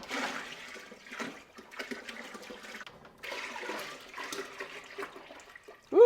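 Whole milk splashes and gurgles as it pours into a large pot for cheesemaking, a sustained watery rush close by with no talking.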